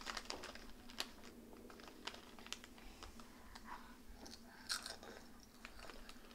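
A young child eats crisps, with close, sharp crunches and bites repeating irregularly in a quiet room.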